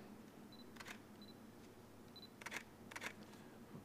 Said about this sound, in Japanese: シャッター音がちっちゃい